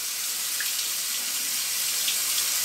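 Water runs steadily from a tap at a small kids' hand-washing setup, a continuous close hiss with no talking.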